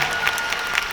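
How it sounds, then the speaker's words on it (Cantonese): Applause for dancers at a Cantopop concert: a dense, steady wash of clapping from a large crowd fills the whole moment without a break. "可唔可以俾啲好靚熱烈嘅掌聲我哋 dancers"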